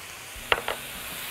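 Cauliflower frying in a pan with oil, ghee or butter, minced garlic and fresh coriander, with a soft steady sizzle and two brief scraping stirs of a utensil close up.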